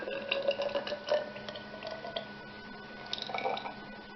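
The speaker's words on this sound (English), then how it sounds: "to the warm oil, we're going to add 40 milliliters of distilled water" Distilled water pours and drips into warm vacuum pump oil for a freeze dryer, a close series of small liquid drips and splashes in a quiet room.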